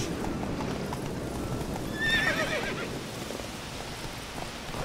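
Geralt's horse Roach in The Witcher 3 gives a clear whinny midway through a steady clip-clop of hooves, the galloping rhythm continuing close and even before and after the neigh.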